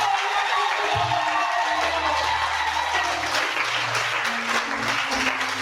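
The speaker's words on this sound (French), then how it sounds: "Vos acclamations sont fortifiantes." Sustained applause and cheering from a congregation during a church service, loud and continuous with a dense wash of clapping and some voices rising over a low hum.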